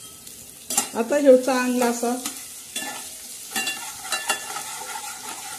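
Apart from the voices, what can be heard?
crushed garlic and cumin paste sizzling in hot oil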